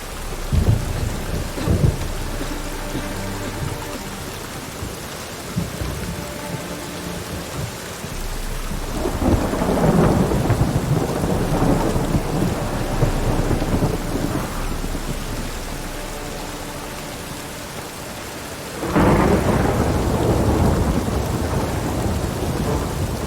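Steady rain pours down while deep rolls of thunder rumble in, swelling twice into loud, sustained crashes before fading back under the downpour.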